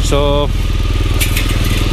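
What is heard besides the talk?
motorcycle engine idling while warming up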